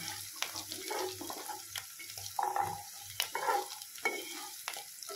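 Chopped carrots fry and get stirred in a pan for upma made with semolina, soft sizzling broken by scraping spatula strokes and clinks, close and fairly quiet.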